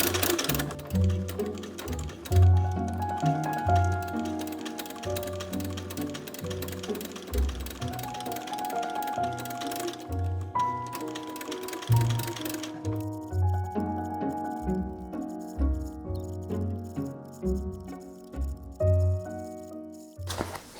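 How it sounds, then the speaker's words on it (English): A sewing machine top-stitches a patch onto a bracer for a Warlock costume, running in close, rapid mechanical bursts with brief pauses between runs and no talking. "I'm just going to top stitch this patch in place."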